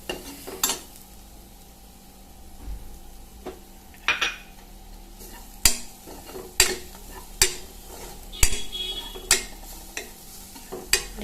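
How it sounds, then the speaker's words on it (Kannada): A spoon stirs spice masala in a metal pan for a potato and brinjal curry, giving a series of sharp clinks and scrapes against the pan over a faint sizzle, close and loud, with no talk. "ಮಸಾಲೆ ಎಲ್ಲ ಬೆರೆಸಿ ಆಯಿತು"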